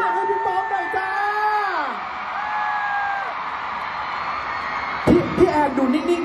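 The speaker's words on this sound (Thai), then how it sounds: "ขอเสียงกรี๊ดดังๆให้พี่ป๊อปหน่อยจ้า" A crowd at the Beloved Festival celebrity football penalty shootout bursts into short, loud screaming and cheering near the end, after a stretch of amplified voice talking.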